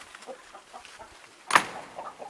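Hens clucking inside a chicken house with nest boxes, soft scattered clucks and one sharper, louder squawk partway through, close by.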